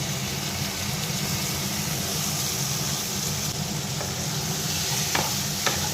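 Marinated chicken, coated with dried red chilli, lemon and mustard oil, frying in a pan with onions: a steady, dense sizzle that holds loud and unbroken throughout, with faint stirring scrapes now and then.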